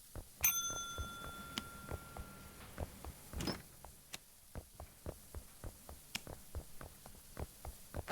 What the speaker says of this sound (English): I've got the bell being belled at me.